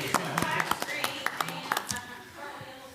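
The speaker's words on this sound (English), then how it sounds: "Ms. Heather said we should clap now" Scattered hand claps ring out at a board meeting, a handful of sharp claps close by and then a thinning patter as they die away, with some talk around them.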